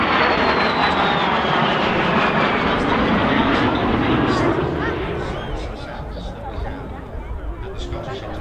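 Aircraft flying head-on in formation at the Scottish Airshow roar loudly overhead, the engine noise swelling and then sweeping past with a falling pitch as a crowd murmurs underneath.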